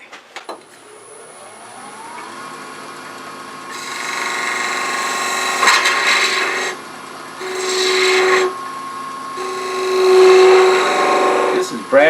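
A Bradford pear blank spinning on a woodturning lathe, the motor humming steadily as a tool cuts in several rasping bursts of varying loudness, close by, with a voice speaking at times.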